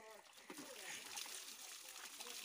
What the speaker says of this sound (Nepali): मैले पानी खराएको यसलाई